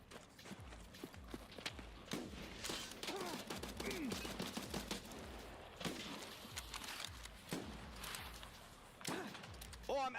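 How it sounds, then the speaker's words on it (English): Rapid gunfire from a shooting match in the video game Once Human, including Mosin rifle shots, cracks out in bursts among footstep-like thuds, with a player talking over it. "Is he still shooting at me?"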